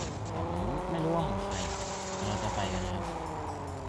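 A car in the Car Parking video game drives along, its engine note rising and falling through gear changes, with tire squeal mixed in, while someone talks over it.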